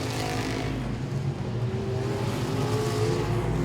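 Modified race cars at Langley Speedway roar continuously at close range, engines droning and revving steadily across the whole stretch as the pack runs together on the oval.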